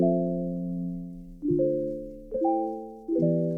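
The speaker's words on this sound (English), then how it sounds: "this smooth pluck, and it sounds like this." Soft SKY Keys smooth pluck synth chords played one after another, four in sequence, each striking cleanly then decaying smoothly before the next.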